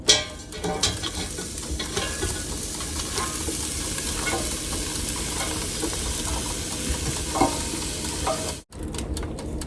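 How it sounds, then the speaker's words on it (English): A cabbage mixture lands in a heated air fryer basket, giving a loud opening thump and then a steady, close sizzle with faint scraping, cut by a brief clatter near the end. "once your air fryer is heated up, you want to take your cabbage mixture and dump it all in"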